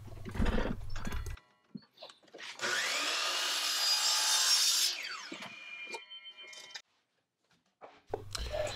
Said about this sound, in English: I want to go ahead and make sure I true up both ends of this piece of plywood.